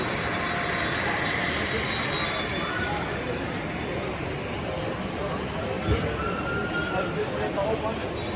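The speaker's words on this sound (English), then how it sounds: "They woke up and decided to run some trains on this layout." Model trains run on a layout at a railway hobby show, giving a continuous rolling clatter and rumble with faint squeals, under a busy hall's crowd murmur and nearby voices talking.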